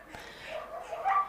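Dog at an international agility festival, Nations Cup large-dog final, giving a few short whiny yips and barks during its run, building toward a louder yelp at the end over arena background noise.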